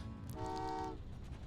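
A train horn in the Train Valley 2 video game gives one short, clear toot lasting about half a second over a low background rumble.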